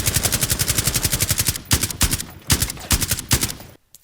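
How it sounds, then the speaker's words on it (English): Video game gunfire from Rainbow Six Siege, the Villa map, Year 5 Season 2: rapid automatic bursts rattle steadily, then give way to separate heavier shot clusters before a brief silence. "as soon as he starts shooting, his bullets play from the right hand side of my headphones as well"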